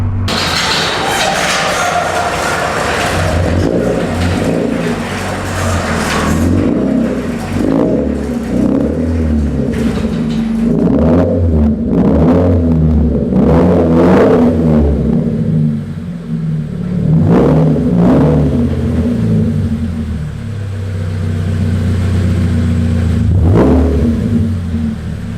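A Subaru BRZ on a cold start revs loudly and close, with a rumbling idle rising and falling through repeated throttle blips and a few thuds over the stretch.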